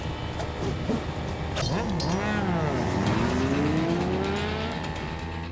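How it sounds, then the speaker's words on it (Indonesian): A chase scene from a mafia action film roars with loud car engines revving and sweeping in pitch as vehicles pass, with squealing tires and a dense, continuous wash of motor noise throughout. "Terlihat adegan kejar-kejaran antara Sok-hee dan anak buah dari mafia itu."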